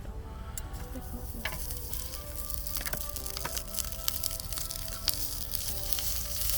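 Eggs frying in a little oil in a Korean-style pan at a campsite, a steady close sizzle with crackling pops and a few clicks of a utensil.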